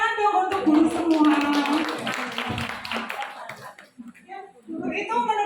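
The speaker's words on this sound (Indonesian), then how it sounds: "Tepuk tangan dong untuk guru semua." An audience at a stand-up comedy show for teachers claps and taps in a loose patter, with a voice talking over the clapping and further speech following a short pause.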